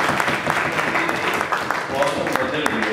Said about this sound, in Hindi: जनाब ताली बजाओ